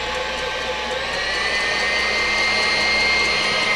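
Constant high-pitched whirring of an electric mixer whipping souffle batter at high speed, loud and close, running without a break.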